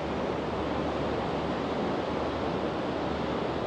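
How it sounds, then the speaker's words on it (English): Sea waves breaking over the edge of a seawater pool on the Tenerife coast at Puerto de la Cruz, a steady, dense wash of surf, loud and continuous with some wind rumble and no pauses. "I noticed the waves were just coming over the top there."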